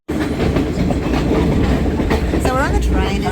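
A train on the Kandy line in Sri Lanka clatters loudly and steadily from inside a carriage, with a dense rumble of wheels on rails and brief squeals of metal near the end, while voices murmur beneath.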